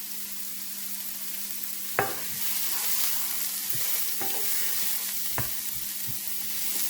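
Finely diced onion with salt fries in a hot skillet, giving a steady close sizzle broken by a few sharp scrapes of stirring.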